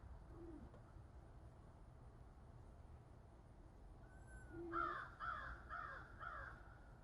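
Blue jay calls ring out outdoors in a short burst of harsh, repeated cries near the end, fairly close and loud over steady background noise.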